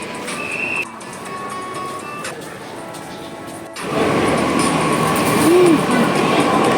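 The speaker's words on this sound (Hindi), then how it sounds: "आ गई ट्रेन, मेट्रो आ गई।" Underground metro train pulling in, a rising rumble and rush of wheels that swells loudly after a few seconds, with brief squeals and echoing platform noise.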